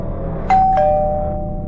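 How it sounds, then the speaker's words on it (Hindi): Two-tone ding-dong doorbell chime, a single clear press with the second note ringing out and decaying, loud and alone over a faint low rumble, used as an effect in a Hindi horror story. "आगे बढ़कर डोरबेल बजाई"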